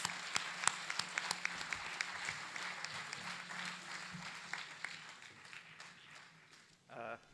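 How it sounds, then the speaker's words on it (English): At a technology conference, an audience applauds to welcome a guest of honor with a steady patter of clapping heard from a distance at low level. The clapping continues for several seconds before fading. "With a huge round of applause, let us invite the guest of honor, Colonel Rajiv Bhargav"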